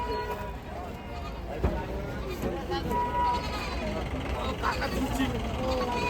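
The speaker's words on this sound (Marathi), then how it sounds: "इकडे बघू शकता तुम्ही शेळ्या उतरणं चालू आहे गाड्यामधून" Goats and sheep bleat while being unloaded from vehicles at Ghodegaon livestock market in the early morning, amid a steady, busy outdoor din of voices and engine noise.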